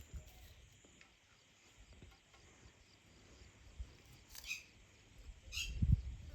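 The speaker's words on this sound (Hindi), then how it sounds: "चिड़ियों की चहचहाने की आवाज़, कौवे की काँ की आवाज़।" Faint outdoor ambience with scattered high bird chirps and a couple of short, louder calls toward the end, a crow's caw among the birdsong, plus a low thump near the close.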